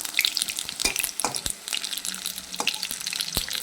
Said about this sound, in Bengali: ভাজতে বসিয়ে দিয়েছি।